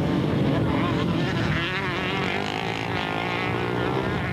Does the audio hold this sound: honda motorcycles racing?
yes